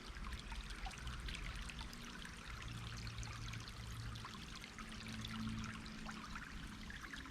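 A natural stream flowing toward an ancient sinkhole, a steady full rush and trickle of water running without a break, close and even in level throughout with no talking.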